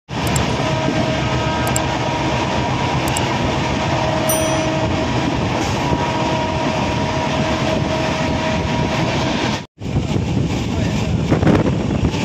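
The Upasana Express train travelling from Kolkata to Lucknow gives a steady, loud roar of rolling carriages and wind throughout, briefly cutting out once near the end.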